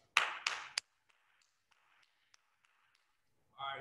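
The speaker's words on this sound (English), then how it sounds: "Clap it up." A few sharp hand claps ring out at the close of a home ab workout, with a short burst of three close claps, faint scattered taps after them, then a voice starts at the end.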